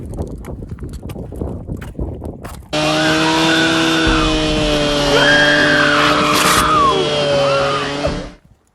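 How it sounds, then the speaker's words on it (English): After a few seconds of talk, a loud chainsaw whines steadily for about five seconds, its buzzing motor pitch wavering slightly before cutting off. "That's the sound of a chainsaw."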